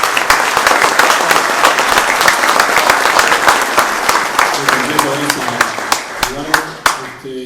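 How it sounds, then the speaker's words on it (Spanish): Audience at an industrial refrigeration talk breaks into sustained, dense applause from a roomful of people; the clapping fills the space steadily, then thins toward the end into a few sharper, scattered claps. "Bueno, un aplauso."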